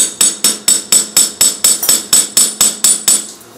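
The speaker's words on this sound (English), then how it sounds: "So just using the hammer," Steady hammer blows on the edge of a metal jewellery piece, a dozen sharp ringing strikes in an even rhythm, close and loud, with no voices.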